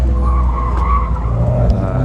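A car drifts at a track day with a sustained, loud tire squeal layered over steady engine roar, continuous and fairly close throughout.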